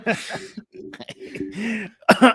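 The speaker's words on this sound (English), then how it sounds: "as I clear my throat" Someone clears their throat with a few rough, gravelly rasps and short coughs, close up, with brief voiced sounds between them.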